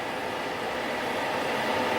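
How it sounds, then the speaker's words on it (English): A very long train rolls past nearby in a steady, continuous rumble with faint rhythmic wheel clatter, the noise holding unbroken throughout with no voices. "So these trains are literally humongous. And there's still no end to the train."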